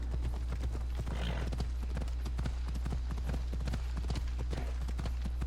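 Horse hooves clip-clop at a steady trot in Assassin's Creed Odyssey, set in ancient Greece, with the hits sounding close and regular over a constant low hum and faint game ambience.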